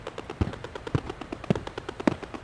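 Tank gun firing in the game Flyout, a steady series of sharp, evenly spaced pops repeating about every half second with smaller clicks in between, fairly close and moderately loud.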